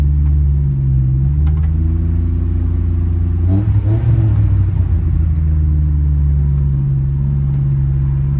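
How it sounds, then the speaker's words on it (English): Nissan Hardbody pickup engine with a sticking throttle, freshly carb-swapped, revving loudly and steadily up close, with a rougher surge midway before it settles back to a high, uneven idle. "Freaking throttle sounds funny."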